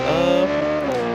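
The Delfinida Project Rapid race car in a racing video game screams at high revs, a loud, sustained tonal engine note that dips slightly in pitch as it holds.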